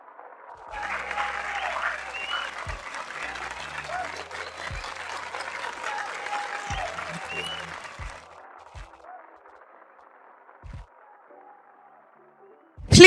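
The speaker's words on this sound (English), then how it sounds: "Ladies and gentlemen, please, with a warm applause, let us welcome upstage Mrs." Warm audience applause welcoming a speaker onto the stage at a managing partners' roundtable, a steady wash of many hands clapping for several seconds before fading, then a few faint thumps and a sharp knock at the end.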